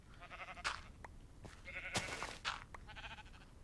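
Several sheep bleating in the Minecraft video game, short repeated nasal bleats spaced irregularly, close and fairly quiet, with no talking.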